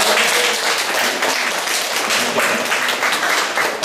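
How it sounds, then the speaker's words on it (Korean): A church congregation breaks into warm applause during a Sunday service. The clapping is dense and fairly loud, holding steady throughout without any talking over it. "박수 한번 쳐주세요."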